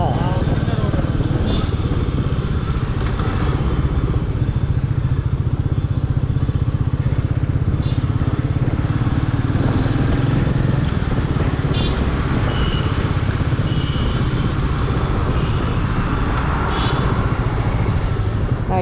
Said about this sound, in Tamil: இன்ஜின் பீட்டு சூப்பராக இருக்குது